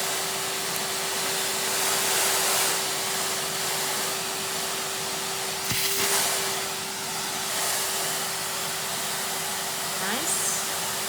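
A vacuum cleaner working over a lounge carpet, a steady loud whining hum running throughout with small bumps and knocks as it moves, and a faint voice in the background.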